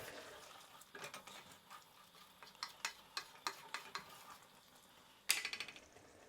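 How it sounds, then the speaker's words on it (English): A spoon stirs paneer and a handful of coriander in a pan for a paneer jalfrezi, giving a run of quick, close scraping clacks over a faint sizzle, then a louder burst of scrapes near the end. "I'm gonna add some coriander, handful of coriander. Give this a mix."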